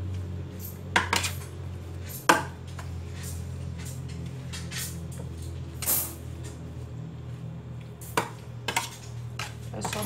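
Seasoned fish skewers for bacon-wrapped espetinho being stirred in a bowl, giving sparse clinks and scrapes of utensil against the dish over a steady low kitchen hum, with a few sharper knocks.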